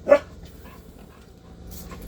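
Small dog giving one short, sharp whimper up close, followed by quiet, faint panting and soft rustling.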